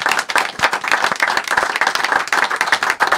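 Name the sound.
audience applause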